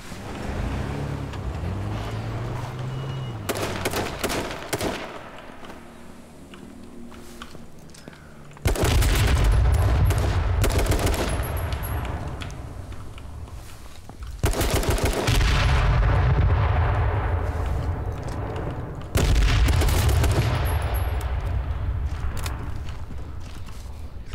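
Gunfire in the battle royale game H1Z1 King of the Kill comes as three loud, dense bursts of shots, spaced several seconds apart, against a steady background of game noise.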